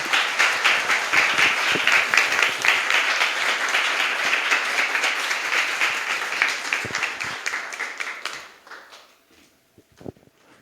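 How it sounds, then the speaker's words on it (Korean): Audience applause welcoming a professor emeritus to the stage at a forum lecture in Korea, a dense, steady wash of clapping that holds for about eight seconds, then thins and fades to scattered claps. "박수로 맞이하겠습니다"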